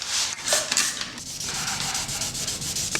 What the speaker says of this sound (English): now I'm just going to take some wet sandpaper and hit that